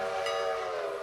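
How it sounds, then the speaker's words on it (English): A locomotive horn in the Railroader video game sounds one steady, loud, harmonic blast that holds evenly for the whole second with no other noise. "hit the bell, we'll give it some throttle and some horn"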